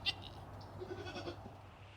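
A dairy goat gives a short, faint bleat against a quiet barn background, with a brief sharp sound at the start.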